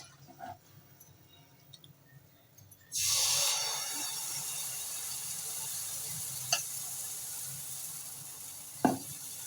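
Ghee is poured over a frying Maharashtrian malpua on a non-stick tawa. After a quiet start, a soft, steady sizzle rises suddenly and continues, with a couple of faint clicks.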